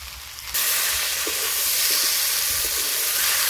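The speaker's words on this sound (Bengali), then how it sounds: "এবার আদা রসুন বাটা দিয়ে দিচ্ছি" Ginger garlic paste hits a pan of frying fish heads, potato and onion. A quieter stretch jumps into a loud, continuous hiss and sizzle that holds steady, with faint spatter ticks.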